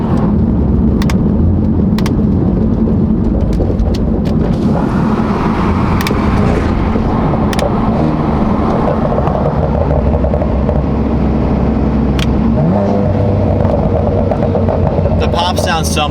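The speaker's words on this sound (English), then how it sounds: "Sounds so much better with this new exhaust." A BMW M4 with a new aftermarket exhaust runs with a loud, continuous engine roar and rumble that swells and shifts in pitch, recorded close up with wind and road noise.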